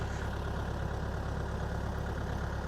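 DTZ 5404 tractor engine running steadily in a field during disc sowing, a low even hum heard at moderate distance, alone.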